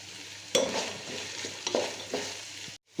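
Finely sliced onions with salt frying in a pan, a close sizzle punctuated by several spatula scrapes and stirs, cutting out briefly just before the end.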